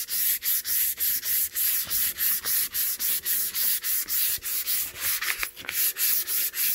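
Sandpaper rubbed by hand over a chalk-painted dresser, a steady run of rhythmic scratchy back-and-forth strokes, close and fairly loud, with no talking.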